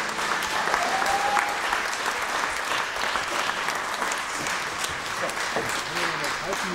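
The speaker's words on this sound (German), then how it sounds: "Also, einen großen Applaus für alle Helfer." A live concert crowd gives the helpers a big round of steady applause, loud and continuous, while a voice talks over it and some music is faintly audible underneath.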